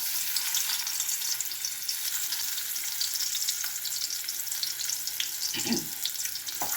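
Garlic and red onion sauté in hot oil with a continuous, even hiss, close and moderately loud, with a faint low thump near the end and no one speaking.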